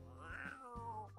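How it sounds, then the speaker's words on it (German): A cat in The Sims 4 gives one drawn-out, rising-then-falling meow, quiet and close, with a faint pitched tone underneath. "Und sie ist am Mauzen."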